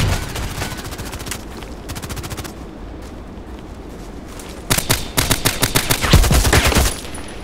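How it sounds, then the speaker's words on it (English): A light machine gun fires in the Contract Wars video game, with bursts of rapid shots, a quieter pause in the middle and a louder sustained volley near the end. "So with my light machine gun it was much easier to take them out."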